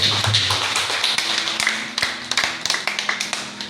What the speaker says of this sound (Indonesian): Saudara percaya berikan tepuk tangan dulu.